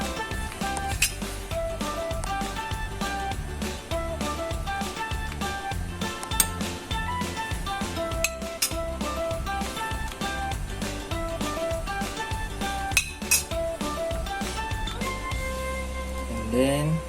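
Metal utensils clink and scrape against a pot in steady repeated strokes, with busy kitchen clatter throughout and no voices.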